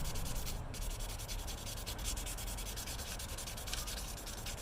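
An edge being sanded down by hand, a loud, continuous rasping scrub of abrasive rubbing back and forth in quick even strokes, close and alone.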